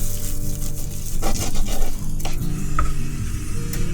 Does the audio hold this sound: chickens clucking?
no